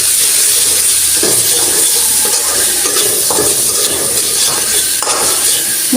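Spices with turmeric, chili and salt fry in a pan with a continuous loud sizzle and hiss, broken by intermittent scraping and stirring clatters.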